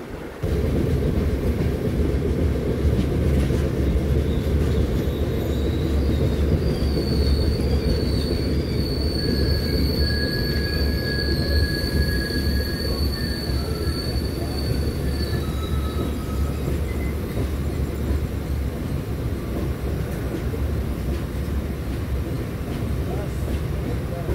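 A passenger train runs steadily on its tracks, heard close from on board, with a constant heavy rumble and high squealing wheel tones rising and fading over it at intervals.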